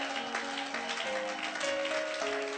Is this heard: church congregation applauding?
yes